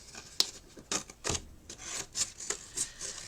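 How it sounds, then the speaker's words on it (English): Scissors snip around a shaped card cover in a series of quick, faint, separate cuts and rasps heard close by, with no talking. "all I'm going to do is just get me scissors and chop round it"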